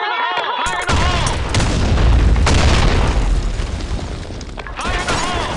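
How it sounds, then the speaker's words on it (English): A grenade blast in a multiplayer shooter match on a sandstorm map rolls out as a loud, sustained boom with crackling gunfire layered over it and a heavy low rumble that lingers for several seconds. "Grenade! Fire in the hole!"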